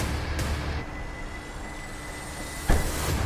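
A 2024 Toyota Majesty's power tailgate opens after a key fob unlock press, with a steady hiss, a couple of sharp clunks, and a louder thump near the end, all over constant outdoor background noise.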